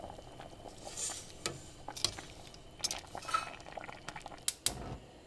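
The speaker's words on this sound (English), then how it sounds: "put my spaghetti in a pot of boiling water" Spaghetti cooks in a pot of boiling water, a faint bubbling simmer with scattered clinks of a utensil against the pot and light stirring taps.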